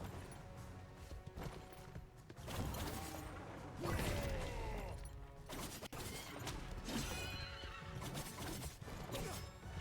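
A horse in Prince of Persia: The Lost Crown neighs with a loud, wavering whinny amid hoof clops, mechanical clanks and crashing game effects, with a brief sharp break partway through.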